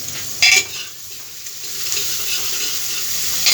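Onions frying in a pan for aloo matar, a steady close sizzle with stirring clatter, loudest in a brief burst near the start and then a continuous crackle.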